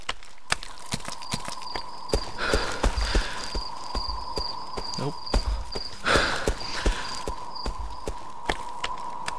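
Rhythmic horse hooves clip-clop steadily throughout in the Half-Life mod Cry of Fear, with a high synthetic tone and short bursts of noise layered over the top, and voices talking underneath.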